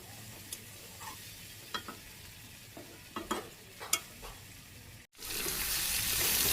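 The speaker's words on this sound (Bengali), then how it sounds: "মাংস প্রায় কষানো হয়ে গেছে, আর একটু কষাইলেই হয়ে দেব।" Rooster meat browning and being stirred in a village kitchen pan, with quiet scraping clicks and a soft sizzle, then a sudden louder rush of hissing, splashing water after a brief gap.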